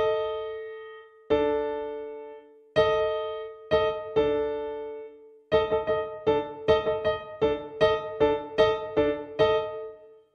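Opening of Saint-Saëns' Danse Macabre, plucked open-string chords alternating a tritone and a fifth, sparse at first, then a quicker run of ringing plucks, each decaying, with no voices.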